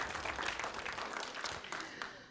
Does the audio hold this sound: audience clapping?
yes